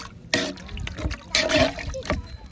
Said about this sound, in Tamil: பன்றி இறைச்சி மூழ்கிற அளவுக்கு தண்ணி இருந்தா போதும்.